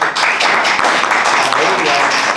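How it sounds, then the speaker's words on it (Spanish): A church congregation gives a strong round of applause during an evening worship service, dense steady clapping filling the room with a murmur of voices mixed in. "Yo quiero un fuerte aplauso"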